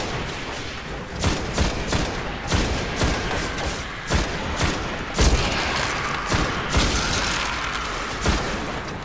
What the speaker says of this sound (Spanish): Es como un fusil. No tiene disparo automático